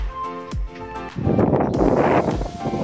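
Strong gusts roar and buffet the microphone, building into a loud, continuous rush of wind after a quieter, rumbling start.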